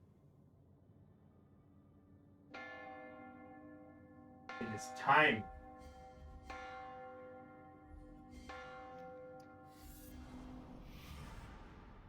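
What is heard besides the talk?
bell ringing in The Room VR video game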